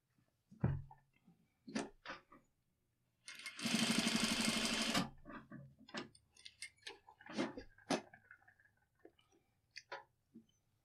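A sewing machine runs an edge stitch along a garment placket in one steady burst of rapid mechanical chatter, surrounded by scattered clicks and handling taps of fabric and pins close by.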